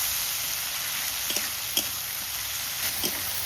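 Spice paste with coriander frying in a pan while crab is cooked: a steady, close sizzle fills the whole stretch, with a few soft scrapes of stirring poking through.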